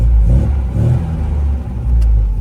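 A 1974 MG MGB Roadster's engine revs as the car pulls away, a loud, steady low rumble with rising and falling throttle, heard up close and without talk.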